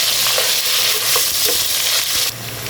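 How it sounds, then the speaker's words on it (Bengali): Two large chopped onions frying in a pan, a dense continuous sizzle with a few soft stirring scrapes, close and fairly loud, ending in a slightly quieter stretch. "এখন দিব 2টা বড় সাইজের পেঁয়াজ কুচি। এখন এটাকে একটু ভাজবো।"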